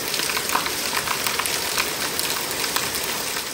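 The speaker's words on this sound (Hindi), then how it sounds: "अभी क्या भयंकर मूसलाधार बारिश प्रारंभ हो गई है" Torrential monsoon downpour pours steadily and loudly in rural India, a dense, unbroken hiss of heavy rain with no pauses.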